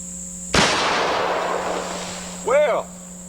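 A single loud shotgun blast fired from a pistol grip cracks close by and rings out in a decaying echo, followed by a brief exclamation from a voice.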